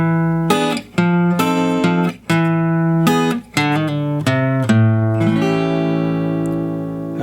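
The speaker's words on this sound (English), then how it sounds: "Okay, now the next measure of music is going to sound like this." An acoustic-toned guitar plays one measure of a walking blues turnaround in A, a string of plucked notes and chords in a steady rhythm, ending on a ringing chord, close and clear with no talk.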